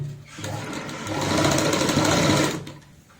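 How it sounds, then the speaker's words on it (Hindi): A sewing machine stitches the seam of a baby gown, a fast whirring mechanical rattle that rises in speed, holds steady for a second, then slows and stops, heard up close. "यहाँ से हम सिलाई की शुरुआत करते हैं"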